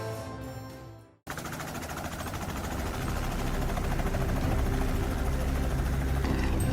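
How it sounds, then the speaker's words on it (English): A helicopter used for hunting wild boars roars steadily and close, its dense rotor and engine noise swelling slightly louder over several seconds after a brief quiet start. "Daniel's bold decision was to use a helicopter as their hunting vehicle"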